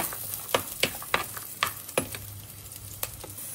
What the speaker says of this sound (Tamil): பூண்டு பாருங்க, இந்த அளவுக்கு கலர் மாறுற அளவுக்கு வதக்கினா போதும்